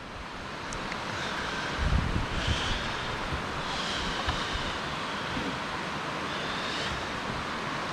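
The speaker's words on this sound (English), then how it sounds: "Hear the creeks? Look, there the river's flowing" Steady broadband rush of a creek and river flowing along a wooded trail near Falling Water Falls in Chattanooga, Tennessee, continuous and moderately loud with wind-like hiss throughout and no talk.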